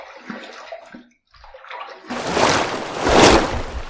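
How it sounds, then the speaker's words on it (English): Water splashing and running while a face is rinsed after a first safety-razor shaving pass, starting with scattered small splashes and a short silence, then a loud, steady rush of water. "So the first pass done, let's rinse."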